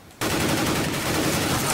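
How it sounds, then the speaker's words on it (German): After a brief quiet moment, loud sustained automatic gunfire erupts in CS:GO, shots fired through a wooden surface in one continuous close burst. "Soll ich mal durch das Holz schießen?"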